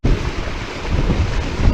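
Excess water rushing through a dam spillway in a state park, a steady broadband roar with wind buffeting the microphone, close and continuous throughout.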